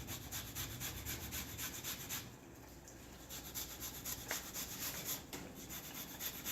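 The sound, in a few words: grating fresh peeled ginger on a grater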